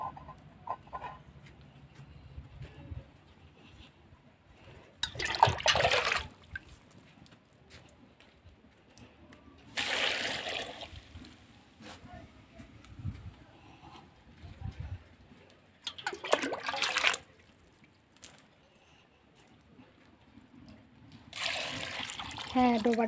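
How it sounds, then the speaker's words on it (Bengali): Water is poured into a pot of turmeric set on a clay stove, coming as several bursts of splashing and trickling a few seconds apart, with a person talking softly in between. "আর এটাতে জল দিয়ে দিচ্ছি।"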